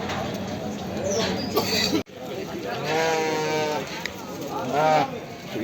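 Sheep bleat repeatedly, loud and close, several overlapping calls amid a noisy pen at a livestock market in Kadirli, Turkey, with some talk in the background.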